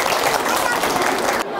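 Studio audience applause, a dense burst of clapping lasting about a second and a half before it abruptly drops off.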